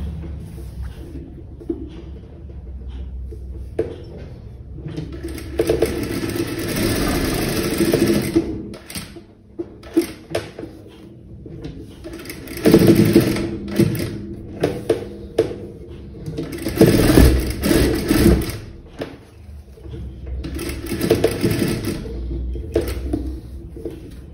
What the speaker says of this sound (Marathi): मग याच्यावर आपण स्टिच करून घेऊ।